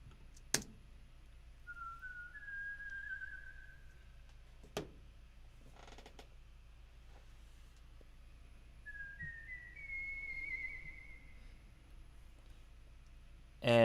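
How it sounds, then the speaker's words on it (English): A single whistled note pitched across a keyboard plays solo, with two short sliding tonal phrases rising and holding, separated by quiet gaps, plus a few sharp clicks. "a recording of me whistling, and then I took that one note that I'm whistling and I mapped it out across all the keys"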